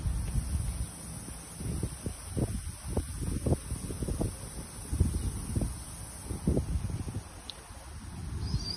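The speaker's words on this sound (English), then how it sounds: "The wind, mashallah, it's what we call in Tagalog fresco, fresh air." Wind blows outdoors in a park in Doha, a steady gusty rush with microphone buffeting and rustling leaves, broken by irregular low thumps, and no talk.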